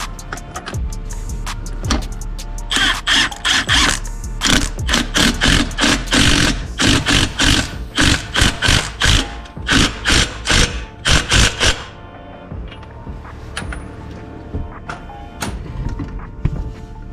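Power tool tightening suspension bolts on a Ram 3500 truck during a Bilstein suspension install: long bursts of loud, buzzing impact-style hammering repeat in a steady rhythm, then stop, leaving lighter clanks and workshop noise.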